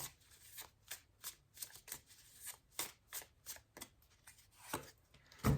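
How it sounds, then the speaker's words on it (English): Chakra oracle cards are shuffled by hand in quick riffling bursts, soft and close in a quiet room, with no talking. "So let's close out with one chakra card."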